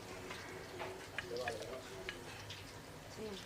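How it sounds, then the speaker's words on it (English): Beans and potatoes sizzle faintly in a pan and are stirred, giving a low frying hiss with soft scraping and clinking, while someone talks quietly over it. "I go on to the next phase, which is to add my beans"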